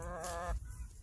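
A small, plump backyard hen gives a single drawn-out vocal cluck, close and clear, followed by a quieter stretch of low outdoor ambience with no talking.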